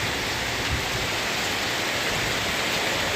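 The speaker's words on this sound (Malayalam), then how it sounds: "ഇത്രയും ശക്തമായിട്ടാണ് ഇവിടെ മഴ പെയ്തുകൊണ്ടിരിക്കുന്നത്." Heavy rain pours down in Palakkad, a dense, steady hiss of water falling on surfaces, loud and unbroken throughout with no voices.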